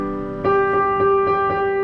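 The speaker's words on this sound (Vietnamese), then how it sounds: "Đây là tiếng piano cơ bản của nó." Basic piano tone of a Roland HP506 digital piano, a few clear notes repeated in an even rhythm, bright and sustained, close and loud with no talking.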